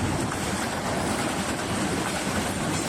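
A train rumbles past Majhgram railway station in Bangladesh, a loud, steady, close roar of wheels and carriages with no break and no voices.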